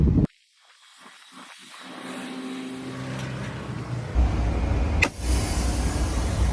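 Air brakes on a semi trailer are set with a sudden loud burst of air, then a long steady hiss that fades and swells back over several seconds, ending with a sharp pop and renewed hissing.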